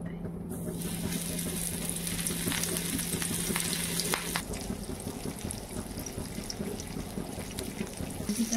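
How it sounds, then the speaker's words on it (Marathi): Surmai (kingfish) pieces fry to a crisp in oil over a medium flame, giving a continuous close crackling sizzle with a few brief clinks and spikes of stirring noise. "मग छान असं फ्राय करून घेऊया, कुडकुडीत छान असं फ्राय।"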